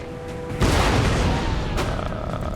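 Cannon and musket fire in the video game Empire: Total War, a heavy booming blast followed by a dense, rolling crackle of gunfire and another report near the end.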